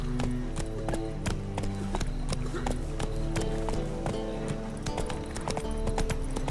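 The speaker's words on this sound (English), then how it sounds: "And just riding on your horse can just feel so therapeutic." Horse hooves clip-clopping in Red Dead Redemption 2 while riding, a steady running rhythm of hoofbeats under a musical score, loud and continuous throughout.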